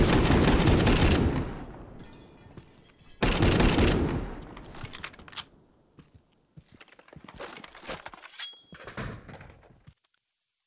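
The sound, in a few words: burst of gunfire from a video game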